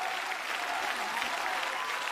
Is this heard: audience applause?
yes